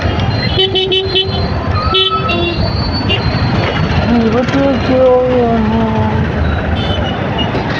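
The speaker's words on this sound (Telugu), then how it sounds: "ఫుల్ ట్రాఫిక్ ఉంది, చాలా అంటే చాలా ట్రాఫిక్ ఉంది." Dense road traffic on a busy market day, with car and vehicle horns honking repeatedly and overlapping above a loud, constant rumble of engines, close and persistent, while people talk.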